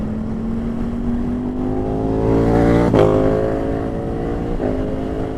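A loud Ducati V4 motorcycle engine revs with rising pitch, then briefly cuts off in a sharp gear shift before pulling again, heard up close in city riding.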